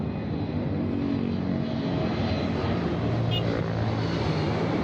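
Toy airplane paired with a steady, moderately loud droning aircraft engine, a continuous propeller-like hum with no breaks across the short stretch.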